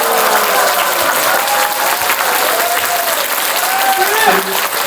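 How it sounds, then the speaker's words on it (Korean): Warm applause from the crowd at a town hall meeting in Dong-gu, Ulsan, held for the mayor-elect. Loud, sustained clapping fills the room throughout, with voices carrying faintly underneath. "동구의 뜨거운 박수 한번 부탁드리겠습니다"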